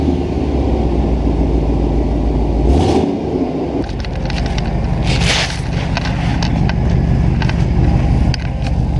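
Car engine starting up with a rusty, leaking exhaust flange: a starter crank, then the engine catches and settles into a loud, close, uneven idle with choppy puffing pulses.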